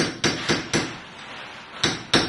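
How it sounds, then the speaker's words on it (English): A hammer peens a brass pin into a stag-handled knife, with five sharp metallic strikes. The blows land in an uneven rhythm, each ringing briefly, with a quiet pause between the third and fourth. "You're just peening that in there so it mushrooms around."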